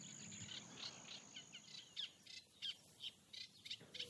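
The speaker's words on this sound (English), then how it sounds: "That's a reed warbler." A reed warbler sings from a Camargue reed bed, a run of short scratchy chirps and trills at moderate distance over a soft hiss of insects and open air.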